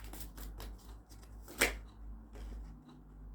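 Tarot cards riffled and handled in a quiet room: a soft run of papery flicks and taps with one sharper snap partway through, close and gentle, with no talking.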